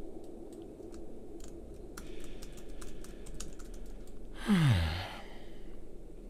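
A few scattered computer keyboard key presses, faint and irregular, over steady background hum, followed by a brief louder sweeping sound near the end.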